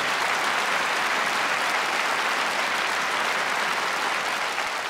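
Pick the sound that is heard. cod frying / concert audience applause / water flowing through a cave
concert audience applause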